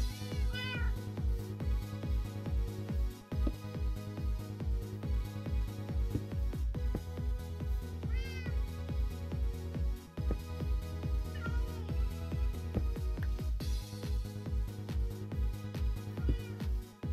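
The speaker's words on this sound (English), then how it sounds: "I'm regretting making those cats now." Several cats in the Minecraft video game meow repeatedly over a steady background of rhythmic in-game music, the meows overlapping at intervals throughout.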